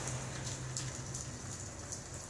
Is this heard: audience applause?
no